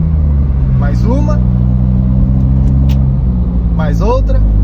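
Smart Roadster with Brabus kit and 82 hp engine shifting up through its automatic gearbox via F1 paddle shifters, a steady close engine drone with brief rising revs between gear changes, under continuous talking.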